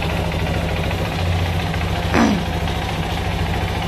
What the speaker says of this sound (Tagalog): Normal lang mga kabisik sa mga fuel injected na mataas yung idle niya tapos biglang bababa.